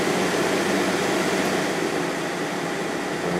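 An LG 8,000 BTU or GE 8,100 BTU window air conditioner runs on high, giving a loud, steady, close-up whoosh of blown air with a constant mechanical hum and no pauses.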